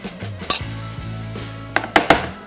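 Crushed cookies being spooned into glasses in a kitchen, with a spoon clinking and scraping against glass in several sharp, close taps and knocks, separated by short quiet gaps.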